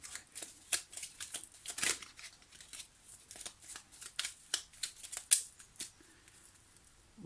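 Tarot cards being handled and shuffled, a quick irregular run of soft riffling flicks and taps, close and quiet, with no talking.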